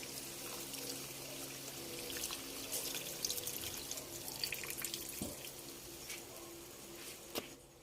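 Water from boiling pork hocks for kare-kare is poured out in a steady, close trickling stream, with small splashes and drips near the end.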